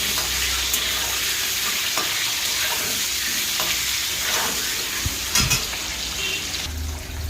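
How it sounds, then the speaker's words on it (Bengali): Eggs frying in a pan for egg korma, a loud continuous sizzle with occasional stirring scrapes and utensil taps close by. "ডিমগুলো কিন্তু আমার লাল লাল করে ভাজা হয়ে গেছে"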